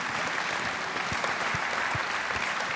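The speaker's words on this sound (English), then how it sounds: "Can we give a huge round of applause to the panelists?" Audience at a university family event clapping for panelists: a steady, moderately faint wash of clapping with a few louder low thumps standing out near the end.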